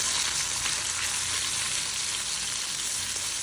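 Pieces of fish fry in oil in a frying pan, a loud, continuous close-up sizzle and crackle with no voices.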